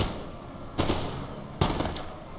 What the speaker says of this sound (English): Got these guys trading fire right here.